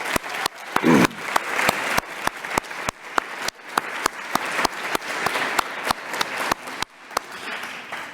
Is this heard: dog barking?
no